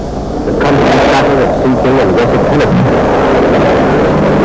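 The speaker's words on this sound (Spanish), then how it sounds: "El constante ruido de los helicópteros" Loud, constant drone of military helicopters and landing barges operating at San Carlos during the Falklands conflict, a heavy rumbling roar with rotor throb and wind buffeting, no voices.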